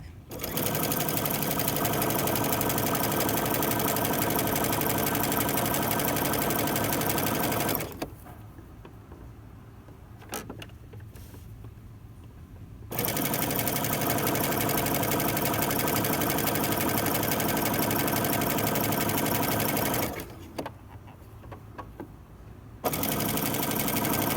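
A sewing machine stitching a lettuce leaf hem on fabric, a loud steady mechanical whir that runs continuously, pauses twice for a few seconds, then starts up again, heard close up.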